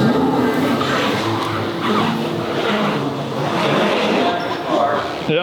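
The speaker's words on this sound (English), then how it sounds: "I hear a tire noise" Tires turning on a hypercar reversing in electric front-wheel mode, a steady dense whirring hiss with a faint rising whine, fairly loud and continuous, with people talking over it.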